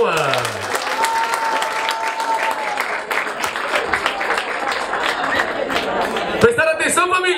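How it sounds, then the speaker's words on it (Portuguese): A crowd at a hip hop rap battle breaks into applause, dense clapping mixed with cheering and crowd noise throughout, with a burst of louder shouts near the end. "Palmas, palmas."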